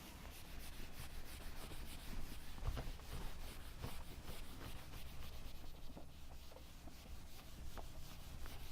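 An eraser rubbing writing off a lecture-hall board: a faint, continuous scrubbing swish of back-and-forth strokes lasting several seconds, with no speech over it.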